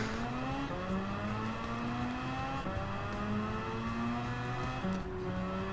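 Mazda RX-7 race car in Gran Turismo 7, engine note climbing steadily through the gears with rising whine and brief dips at shifts, loud and close, no talk.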